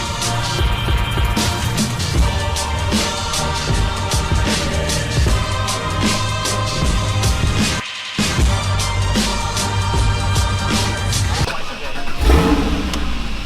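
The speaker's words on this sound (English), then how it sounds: "In the GT4 already, as you can hear." A GT4 sports car's engine drones loud and constant while driving, with a brief dip near the middle and someone talking over it.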